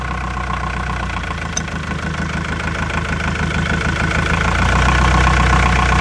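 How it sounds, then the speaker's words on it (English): A diesel engine idles roughly with one injector line cracked open, a steady loud low rumble with an uneven, lumpy beat that carries on alone without voices. "I'm going to crack this injector line right now and watch and see what happens to the engine."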